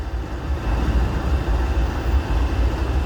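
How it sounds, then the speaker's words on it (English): Two freight trains meet and pass one another, heritage unit locomotives among them, a continuous deep rolling rumble of rail traffic with a gently pulsing rhythm at moderate distance. "What an awesome train meet."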